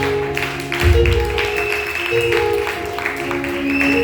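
Church congregation clapping for Jesus, a dense steady patter of many hands filling the room, with sustained music and voices running underneath throughout.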